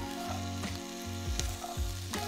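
A small cast iron pan crowded with vegetables sizzles and fries on a camper stove, with a steady loud crackle and a few scraping stirs close by.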